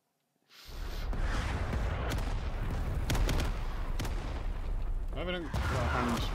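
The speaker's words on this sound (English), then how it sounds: "Taking out some accurate ass artillery" Artillery barrage in the Vietnam War shooter Rising Storm 2: Vietnam, starting suddenly after a moment of silence and rumbling on as a loud, continuous wash of blasts and booms with sharp cracks throughout.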